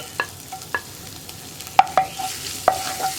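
Finely chopped ginger stirred in a pan, quick scraping knocks of a spoon against the metal at irregular intervals over a faint sizzle, with no voices.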